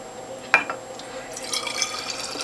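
Homemade kohlrabi, beet and carrot juice pours into bottles with a soft trickling and splashing, a sharp clink of glass early on, and steadier liquid filling toward the end, close by.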